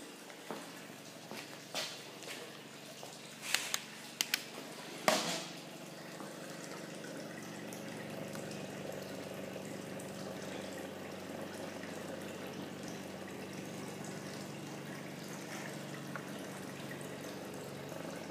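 Water flows through a gold sluice with a soft steady trickle and gurgle. Several sharp knocks and clatters come early on, then the flow continues evenly and quietly.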